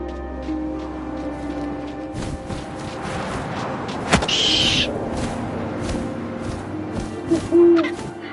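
An owl hoots in the game What Remains of Edith Finch, with a few soft low calls over a quiet ambient backdrop. A thud lands midway and brief rustling sounds follow near the end.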